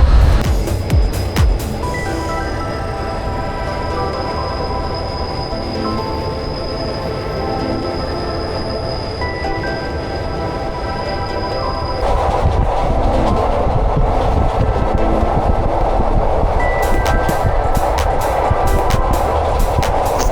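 An overnight passenger train from Bangkok to Phuket runs steadily, heard from inside with a loud continuous rumble, wheel clatter and high metallic squealing that drops away midway before the roar swells again.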